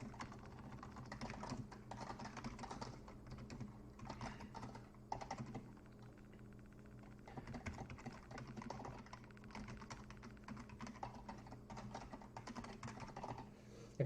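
Soft, rapid clicking of a computer keyboard as code is typed, with bursts of keystrokes broken by short pauses, quiet and close over a low background hum.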